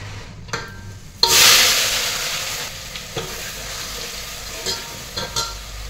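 Chili powder and masala hitting hot oil, with a sudden loud hiss that swells and slowly fades into a softer sizzle, broken by a few light stirring clicks, no talking.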